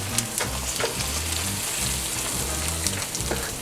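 A 100-day dry-aged NY strip steak sizzles on a Weber kettle grill, giving a steady, close, crackling hiss with scattered sharp pops throughout.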